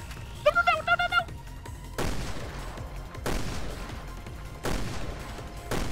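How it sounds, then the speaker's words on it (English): In Resident Evil Revelations 2 raid mode, three heavy grenade blasts boom out in succession, each with a long rumbling tail, preceded by a short burst of synthetic game chimes. "now we're gonna have some grenades"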